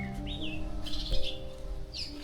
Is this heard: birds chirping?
yes